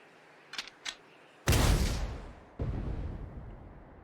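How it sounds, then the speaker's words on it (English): A tank cannon fires in the Sand Land video game, one heavy booming blast followed by a second sharp report about a second later, each trailing off with rumbling decay after a couple of faint clicks. "Fire one shot right at the midpoint between Shiva and the Royal Army!"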